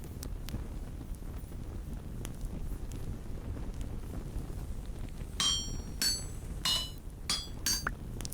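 Copper being hammered on an anvil in the video game Vintage Story: a few sharp metallic clinks late in the clip, irregularly spaced, over a steady low wind-like ambient rumble.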